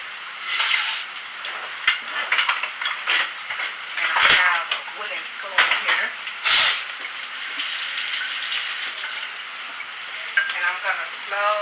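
Frying and stirring in a pot on a home stovetop while green beans cook, with a wooden spoon scraping and tapping against the pot in brief knocks over a steady sizzle.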